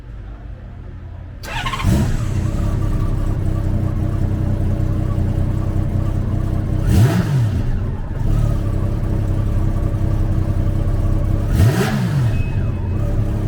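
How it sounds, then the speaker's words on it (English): A 2000 Honda GL1500 Goldwing trike with its 1520cc six-cylinder engine starts up and settles into a steady, close idle, with two brief revs rising and falling partway through. "Powered by a 1520cc 6-cylinder engine, the Goldwing puts 100 horsepower and 110 foot-pounds of torque through a 5-speed transmission."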